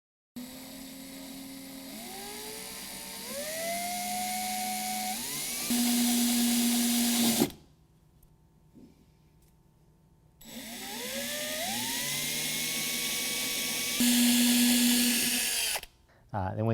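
A power drill bores holes through the hood of a 2015 Ford F-150 for fasteners, whining up and down in pitch across several short bursts, with a pause midway and a brief stop near the end.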